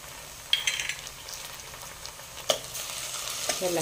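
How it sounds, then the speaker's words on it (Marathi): Onion with ginger garlic paste and crushed black pepper sautéing in a pan makes a soft, low sizzle broken by a few sharp spatula clinks and scrapes. "आलं लसूणचा वास छान पूर्ण जाईपर्यंत हे परतून घ्यायचं।"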